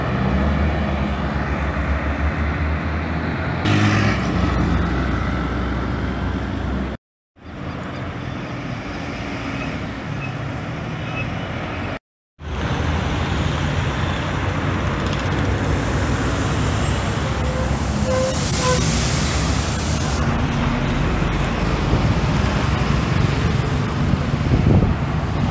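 An Aviação Sossuí bus pulls in at a roadside stop in São José do Safira, its diesel engine rumbling steadily and loudly over about 25 seconds amid road traffic noise, with two brief dropouts.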